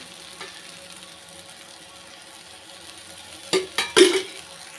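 Oil poured onto a hot pan for frying a dosa sets off a few short, sharp sizzling bursts near the end, after several seconds of quiet background.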